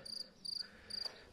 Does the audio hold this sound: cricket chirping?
yes